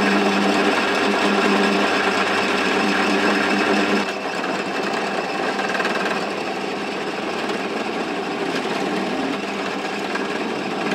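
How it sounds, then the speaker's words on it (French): A drill boring a straight hole into wood while a cabrette bagpipe is being made, a steady continuous whine that drops slightly in level partway through and keeps running to the end. "Alors on va commencer par percer un trou donc droit."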